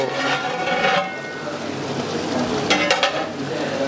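Chicken kadai with tomatoes frying in a pan makes a continuous close sizzle with stirring strokes, louder at the start and again with a few sharp clatters toward the end.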